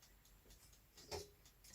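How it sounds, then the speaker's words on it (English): A Sunbeam NutriOven CO3000 convection oven's timer ticks faintly and evenly, soft clicks repeating at a steady pace with a slightly louder tick near the end, no voices over it. "Sorry about the ticking noise. I shouldn't have turned the timer on."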